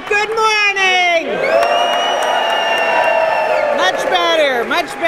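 Rally crowd yelling and cheering in a long sustained roar, loud and continuous between bursts of amplified talk from a speaker at the front.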